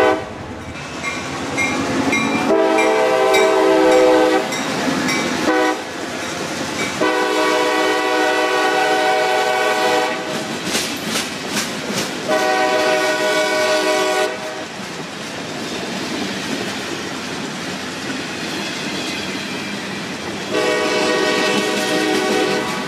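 A CSX local freight train rolls past, loud and close, with repeated long blasts of its horn over a steady rumble and clatter of wheels on rails that continue throughout.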